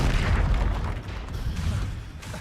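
A Confringo spell explosion in Hogwarts Legacy lands as a deep, loud boom, rumbling low and fading over a couple of seconds with smaller bursts trailing off.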